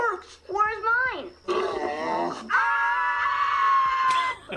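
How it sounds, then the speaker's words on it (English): A loud, drawn-out scream from a TV commercial, rising and wavering and then holding a long shrill tone, mixed with grunting, squealing voices and close talk. "I'm pretty sure you could just play that scream anywhere and it'll get a laugh"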